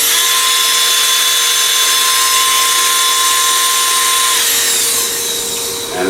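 A variable-speed rotary tool, rated up to 20,000 RPM and fitted with an 1/8 inch collet, whines loudly and steadily at high speed, then its pitch drops as it winds down near the end.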